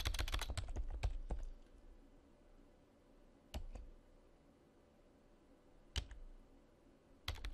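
Bursts of computer keyboard typing, a quick run of keystrokes at first, then a few isolated clicks separated by quiet pauses.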